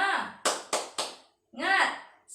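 A group of women in a class session performs a rhythmic patterned clap, three sharp claps in a quick row set between spoken chanting voices, then more chanting.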